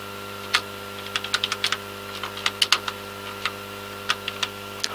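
Someone types a name on a computer keyboard, the light key clicks falling in short irregular bursts against a quiet background hum.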